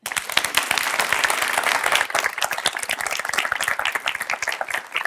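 Audience applause at a talk, close and lively, with many individual hand claps crackling in a dense, uneven rhythm that holds steady throughout.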